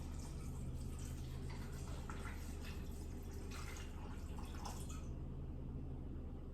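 Water poured from a container into a pot while making vegan queso, a faint steady splashing trickle running for about five seconds before stopping, with no talking.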